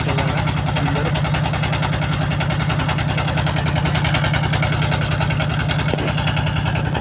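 A boat engine running on the Padma river, a loud, close, steady low thumping with fast regular pulses throughout and no break.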